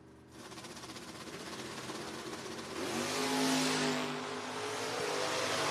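At a drag strip, a 1968 Mustang and a 1968 Camaro launch side by side. Their engines swell from a low rumble into a loud, rising roar that peaks and carries on as they pull away, with no voices over it.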